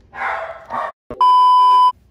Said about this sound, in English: I had to calm down the barking dog